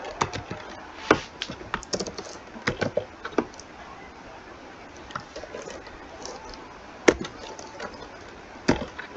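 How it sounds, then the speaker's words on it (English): Typing on a computer keyboard during a programming lesson: scattered, close key clicks in irregular bursts, with a few sharper taps standing out over a soft room hiss. "We type"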